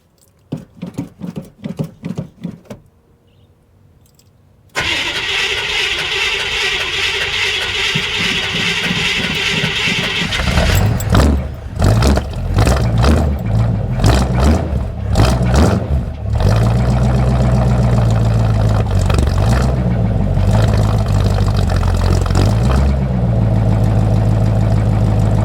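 A Ford Mustang V8 cold-starting after some faint clicks and a brief quiet pause, then catching into a loud, steady idle with uneven rumbling pulses before settling into a constant drone.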